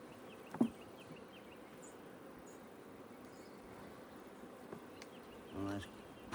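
Bees buzz faintly and steadily close by while a nucleus colony is set up with frames, with a few louder passes and soft handling noises.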